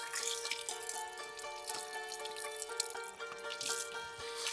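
Water from a hand-operated village tap splashes and trickles steadily into a basin, a continuous bright patter with small drips, close and alone without speech.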